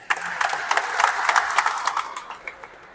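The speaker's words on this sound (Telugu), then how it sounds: "Please clap." An audience at a fertilizer dealers' association sports event and prize presentation in Khammam claps, a dense burst of many hands that swells and then slowly thins out over a few seconds, with no speech on top.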